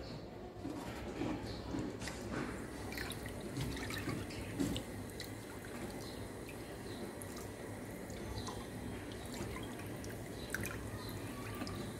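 About 1.5 litres of milk pouring steadily into a cooking pot for Nawabi lachha semai, a continuous liquid splash and trickle lasting throughout, moderately close and fairly quiet, with no voices.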